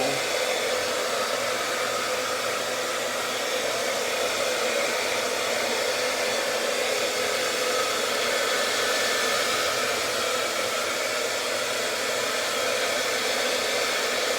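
Hair dryer blowing while hair is styled with a round brush, a loud constant close-up whoosh and whine holding steady throughout, with no talking.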